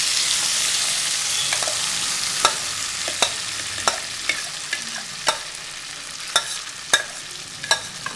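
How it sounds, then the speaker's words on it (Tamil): Cooked rice pongal stirred into a sizzling ginger and curry leaf tempering, a steady close sizzle broken by repeated sharp scrapes and knocks of the spoon against the pan, with no talking. "அதை அதில் போட்டு நல்லா கிளறிடணும்"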